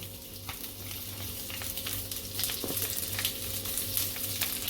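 A spoonful of oil sizzles and crackles in a pan over medium heat, a steady close frying hiss that holds evenly throughout with no voices.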